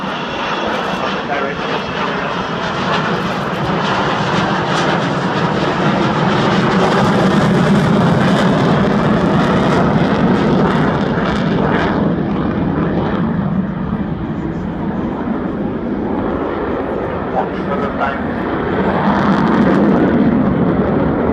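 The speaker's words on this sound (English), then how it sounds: "A slow fly past" A large aircraft makes a slow fly past at the Farnborough International Air Show 2014, its loud, continuous engine roar holding steady and swelling slightly as it passes, with an announcer faintly audible underneath.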